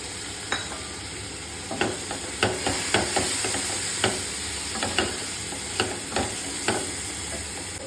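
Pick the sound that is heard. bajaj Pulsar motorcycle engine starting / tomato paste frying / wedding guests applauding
tomato paste frying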